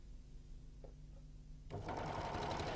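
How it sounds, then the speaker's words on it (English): Janome 6234XL overlocker sewing a pin tuck along a fabric fold: a quiet pause with a faint tap, then the machine abruptly starts up into a steady, fast, close whirring stitch. "Stitch along the fold of the fabric, keeping the fold in line with the chaining finger."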